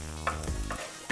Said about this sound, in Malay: Masukkan bawang merah dan juga bawang putih terus ke dalam periuk nasi.